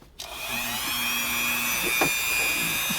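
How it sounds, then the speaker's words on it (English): A Dremel rotary tool sands a cracked dashboard on a Chevrolet Avalanche. A steady high-pitched whine holds for about three seconds, close and loud, with a few scraping touches against the plastic. "use my Dremel, except I've got the cord wrapped around my foot, and I'm going to try to sand some of this stuff"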